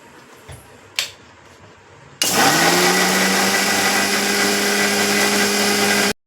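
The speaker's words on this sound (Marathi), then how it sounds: "आता हे मी मस्त मिक्सरला वाटून घेते." A kitchen mixer grinder blends lychees with sugar and a little salt, starting abruptly after a couple of soft clicks and running as a loud, steady whirring roar until it stops.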